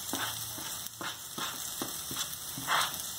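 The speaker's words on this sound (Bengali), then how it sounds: "চাল আর পেঁয়াজ একসঙ্গে ভাজবো, যতক্ষণ না পেঁয়াজ নরম হচ্ছে।" Rice and chopped onion fry together in a hot pan, giving a steady, close sizzle broken by regular scraping stirs roughly every half second, with no voices.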